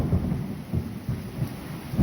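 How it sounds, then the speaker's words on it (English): Thunder from a nearby lightning strike during a severe storm in Manchester, New Hampshire, rumbling in repeated low booms over a steady hiss of falling rain. "That has got to be the closest lightning strike that I've ever been facing."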